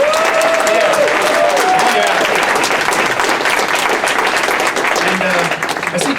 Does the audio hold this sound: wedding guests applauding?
yes